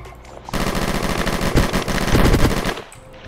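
Automatic gunfire rattles in the online video game GTA Vice Online, a loud, close, sustained burst of rapid shots lasting a few seconds before cutting off.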